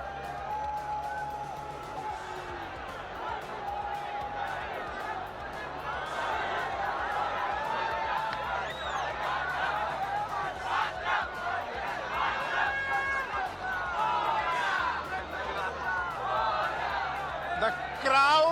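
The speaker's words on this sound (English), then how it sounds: "The crowd has completely gone out of control. They're cheering for Team India." A huge crowd cheers Team India during the champions' homecoming roadshow on Marine Drive, Mumbai, a dense, continuous roar of shouts and chants that swells and stays loud throughout, with voices talking over it.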